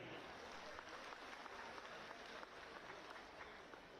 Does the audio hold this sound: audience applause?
yes